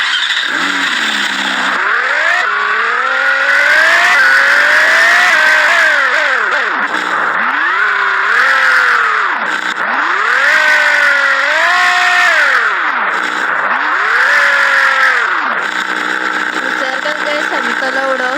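A GT car in the Vehicle Legends video game revs its engine repeatedly, climbing in pitch then dropping back in several loud surges, with someone talking over it.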